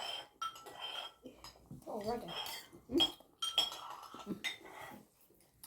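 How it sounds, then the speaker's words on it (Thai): A spoon scrapes and clinks against an empty bowl that held Thai minced-pork rice porridge, in short uneven strokes with voices talking nearby. "ได้ยินเสียงเป็นขูดถ้วยนะคะกินหมดเลย"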